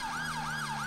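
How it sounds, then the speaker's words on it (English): A police car siren in GTA 5 with the LSPDFR British police mod wails steadily, rising and falling in smooth cycles, loud and close, with no voices over it. "Well, I'm going to kill the siren."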